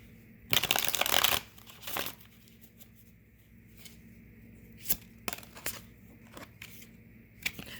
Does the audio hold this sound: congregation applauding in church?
no